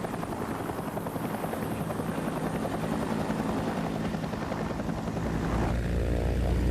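A Huey helicopter thrums steadily overhead, rotor chop and engine roar loud and continuous, growing a little heavier toward the end.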